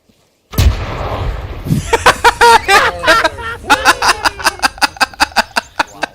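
A 75mm gun fires in the Arma 3 video game, a loud close blast followed by a string of sharp rhythmic reports and echoes, with voices talking and laughing around it.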